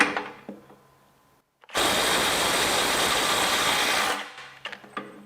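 A Kobalt 24-volt right angle impact wrench fires one loud, continuous burst of about two and a half seconds. Quieter clicks and handling noises come before and after it.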